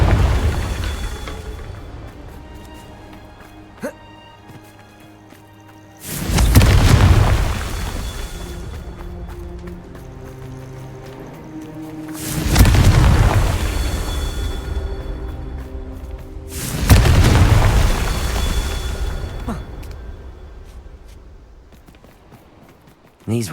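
Confringo fire-blast spell explosions in the Hogwarts Legacy video game, three loud, deep booms spaced several seconds apart, each swelling and then fading over quieter in-game ambience.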